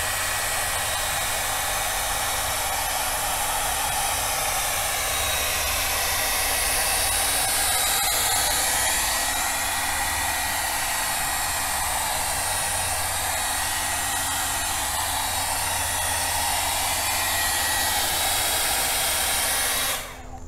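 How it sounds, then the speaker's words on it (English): A hair dryer blows continuously at close range over a freshly re-dyed leather car seat in a SAAB 9-5, a loud steady whooshing whine that holds for about twenty seconds before cutting off. "And then if you go over it with a hairdryer,"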